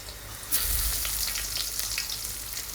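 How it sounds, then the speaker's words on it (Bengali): Cumin seeds hit hot oil for a Bengali tengra fish kalia and burst into a loud, close sizzle that settles into a steady crackling fry, with no voices. "তো একটু জিরা দিয়ে দিলাম"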